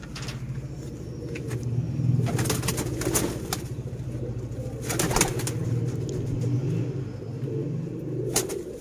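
Several pigeons cooing in low, throaty murmurs close by, with brief bursts of wing flapping and a steady background hum throughout.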